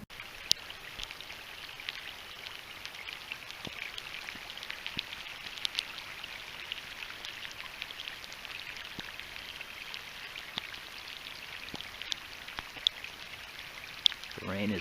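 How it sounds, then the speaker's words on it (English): Rain falls steadily during a mountain hike, a faint continuous patter with scattered sharper drops tapping on nearby surfaces throughout. "The rain is back."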